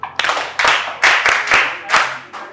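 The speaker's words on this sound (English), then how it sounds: "Clap for him." A small group claps briefly during a children's reading session, a few close, loud bursts of hand claps in an uneven rhythm rather than a continuous ovation.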